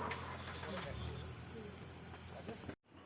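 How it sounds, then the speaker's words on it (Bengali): Crickets chirp in a steady, high, shimmering drone in rural North Bengal, running unbroken until it suddenly stops. "ঝিঝি পোকার একটা অদ্ভুত ডাক যেন মনে হচ্ছে নুপুর বাজছে"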